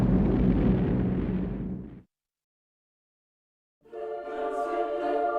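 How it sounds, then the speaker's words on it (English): A heavy bomb blast rumbles loudly and broadly, then cuts to total silence before a second booming, rumbling explosion swells back in. "The bomb is dropped."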